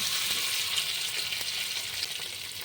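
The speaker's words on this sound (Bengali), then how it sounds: "তেলটা গরম হয়ে গেছে, আলুগুলো এবার তেলেতে আমি দিয়ে দিচ্ছি।" Potatoes sizzle steadily in hot mustard oil in a frying pan, a close, even crackle with faint stirring scrapes and no talking.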